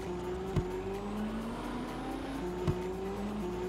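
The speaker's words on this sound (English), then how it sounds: "hear my sound of this car. It sounds cool" Engine of a car driven in the Roblox game Vehicle Simulator, a steady droning hum with rising and falling tone throughout, broken by two brief clicks.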